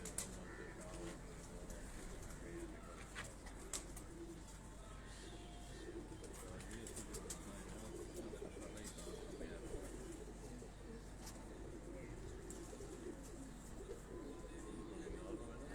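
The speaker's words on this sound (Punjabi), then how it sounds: "ਆ ਜੀ ਤੌਂਸੀ ਕਬੂਤਰ ਤੁਹਾਨੂੰ ਦਿਖਾ ਰਿਹਾ ਜੀ।" Taunsi pigeons in a Lahore loft coo softly and repeatedly at low volume over a steady background hum, with faint voices in the distance.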